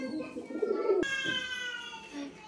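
Pigeons coo close by in a soft, throaty run, then a brighter call breaks in, with faint murmuring cooing continuing behind it.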